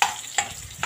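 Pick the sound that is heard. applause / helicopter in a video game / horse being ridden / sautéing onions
sautéing onions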